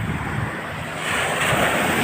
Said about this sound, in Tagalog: Kaya lang medyo maalon.